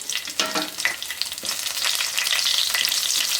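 Cumin seeds and dry red chillies fry in hot oil with a loud, close crackling sizzle that builds into a dense, continuous hiss.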